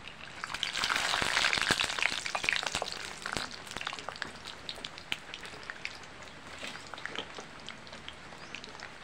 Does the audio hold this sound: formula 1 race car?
no